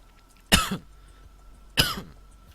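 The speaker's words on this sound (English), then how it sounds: "Well, I got the coughs." A man coughs twice, each a short, sharp, close burst with about a second of quiet between them.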